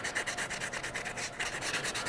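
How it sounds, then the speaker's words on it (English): Fine used sandpaper is rubbed lightly over a statue in quick, even back-and-forth strokes, a soft hissing scrape pulsing several times per second, close and steady with no talk. "So I'm just gonna give this just everything a real light sanding."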